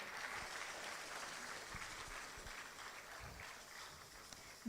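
Audience applause at an entrepreneurship festival pitching event, steady and sustained across the whole stretch, moderately distant and filling the room without a clear voice on top.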